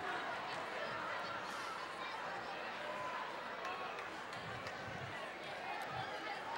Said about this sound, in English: Crowd's getting a little excited.